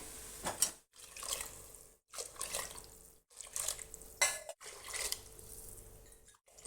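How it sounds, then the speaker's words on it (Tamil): Water splashes and gurgles into a pot for tomato biryani in several bursts separated by brief pauses, with faint clinks of cookware nearby. "இப்போ நான் தண்ணி ஊற்றிக்கிறேன்"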